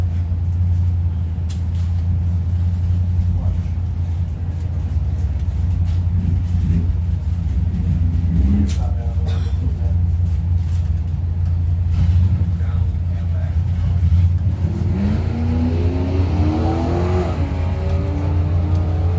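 A Ford Mustang and a Chevrolet drag racing at a Blue Oval Battle event, a steady low engine rumble building into rising revs near the end, with a commentator's voice over the noise.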